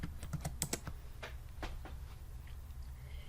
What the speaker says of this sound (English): So I go in here and I type in James Brown.